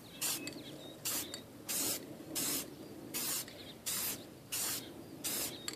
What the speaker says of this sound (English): without stopping over the top, I'm just going to spray